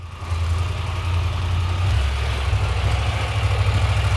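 A motorcycle engine idles steadily at a Balkan border crossing, a low, even rumble that holds close and constant with no revving or voices.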